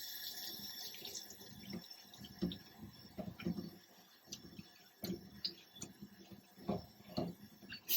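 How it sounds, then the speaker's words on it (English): Water from a sink tap runs and splashes while a dyed handkerchief is rinsed, with intermittent ticks and knocks of fabric and hands against the basin, fairly faint and close, no talk. "and then just rinse everything"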